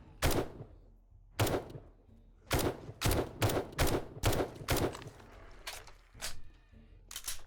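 Gunfire from survival game 7 Days to Die on Insane/Feral difficulty: about a dozen sharp, loud shots fired in an uneven rhythm, mostly single reports spaced half a second to a second apart, with short quiet gaps between them.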